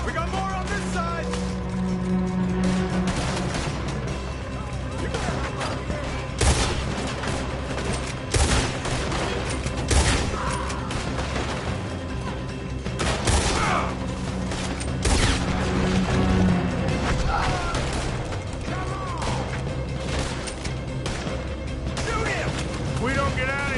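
A Red Dead Redemption 2 shootout: dense, rapid gunfire from several guns crackles without a break, mixed with crashes and mechanical clatter, while voices shout over the battle.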